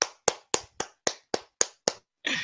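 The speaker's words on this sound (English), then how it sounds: "Wait, who's clapping?" Eight sharp hand claps ring out alone at an even, brisk pace, each close and crisp, followed by a brief burst of broader noise.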